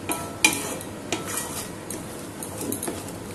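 A spatula scrapes and taps against a pan while a coconut laddoo mixture is stirred, sharp metallic clacks at irregular intervals over a soft, low background hiss.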